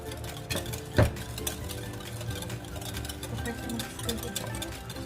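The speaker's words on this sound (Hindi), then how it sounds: "इन सबको अच्छी तरह से मिक्स कर लेंगे" Brownie batter with peanut butter being stirred and mixed in a bowl, soft repeated scraping and ticking taps with one sharp knock of the utensil against the side.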